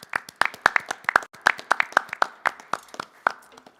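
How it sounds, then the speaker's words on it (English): Sparse, distinct claps from a small audience at a mental health forum in Indianapolis, individual hands striking in an uneven rhythm, close and crisp, with short gaps between hits. "let's please give our sponsors and supporters a big, warm welcome round of applause"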